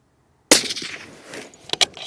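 A Sako 90 Peak Carbon rifle fires a 168 grain Barnes TTSX round at a factory test range: one sharp, loud report after silence, trailing into a decaying echo, with a few faint clicks and rattles afterward.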